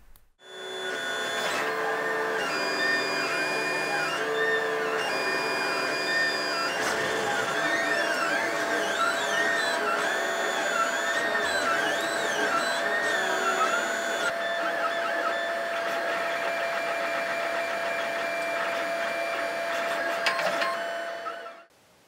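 A 3D printer printing actuator parts whirs continuously nearby, with stepper motors singing warbling, shifting tones that rise and fall over a steady mechanical hum before the machine abruptly stops.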